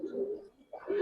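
Silver Giribaz pigeons coo nearby, two low throaty coos separated by a short pause, clear and fairly quiet with no talking.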